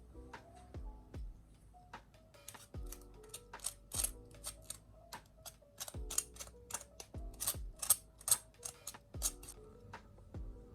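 A knife crunches through the crisp crust of a garlic roast potato in a rapid series of sharp, crackling cuts, close and distinct, with no talking.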